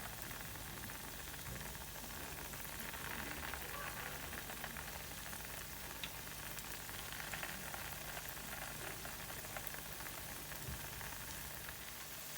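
Small thaen mittai sweet dough balls frying in oil over medium heat, a steady soft sizzle and crackle that runs evenly throughout, quiet and close with no talking.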